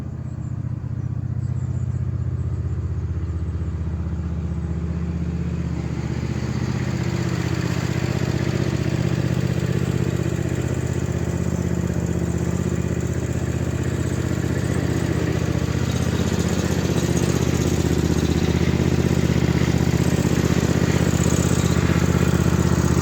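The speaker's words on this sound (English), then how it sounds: "I've just pulled Little Red Tractor out, give it a bit of a warm up" A small red tractor's engine warms up for 23 seconds, running as a continuous low mechanical drone that builds slightly in loudness and holds steady. Nobody speaks.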